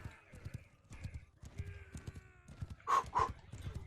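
Horse hooves clip-clop in a Mount and Blade Bannerlord cavalry charge, a quick steady galloping rhythm up close, mixed with battle noise and a couple of sharp bird-like cries near the end.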